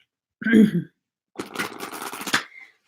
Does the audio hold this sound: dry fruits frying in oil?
no